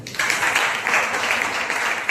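A congregation at a Sunday church service breaks into lively applause, a dense crackle of many hands clapping at once that swells in gentle pulses, with no speech over it.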